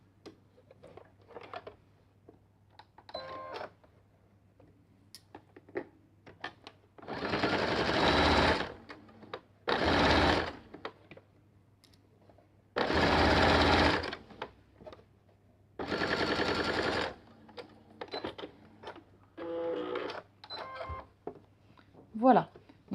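A sewing machine topstitches both sides of a button placket in four loud, steady bursts of fast stitching lasting a few seconds each, with someone speaking French in the gaps between them.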